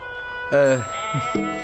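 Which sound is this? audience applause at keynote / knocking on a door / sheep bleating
sheep bleating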